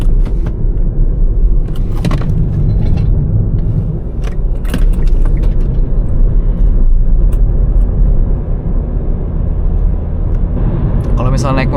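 A car's engine and road noise rumble loudly and continuously as it drives through an empty roundabout on a provincial road in Germany, with a person talking over the drone.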